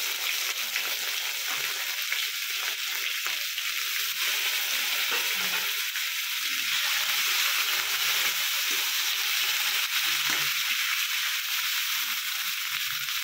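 Ginger and turmeric fry in hot oil for a cabbage and shrimp curry, a loud continuous sizzle with occasional stirring scrapes and no voices.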